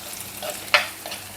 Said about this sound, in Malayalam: ഇനി നന്നായിട്ടൊന്ന് വഴറ്റിയെടുക്കുക.